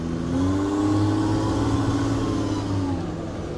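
An OM606 diesel engine in a Land Rover build pulls up through its revs with a rising drone, eases off for a gear change and settles lower again, sounding loud and steady with no voices over it.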